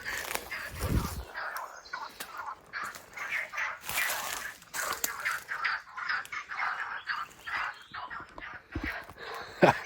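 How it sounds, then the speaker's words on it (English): A noisy chorus of birds calling and squawking over each other in the hills near Valencia, harsh overlapping cries filling the air with a few louder bursts. "Check out the crazy noise of these birds here."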